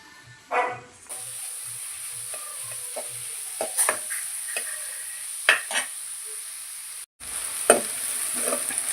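Fennel seeds and onions frying in oil for a village-style mutton gravy, a steady close sizzle with occasional stirring scrapes and clinks, a dog barking faintly in the background early on.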